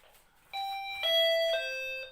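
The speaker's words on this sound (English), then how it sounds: "If I were to ring this, everybody rings the doorbell, right?" A two-tone electronic doorbell of a condo in Tbilisi, Georgia chimes twice in a row, clear and close, each ding-dong ringing out with a short sustained tail.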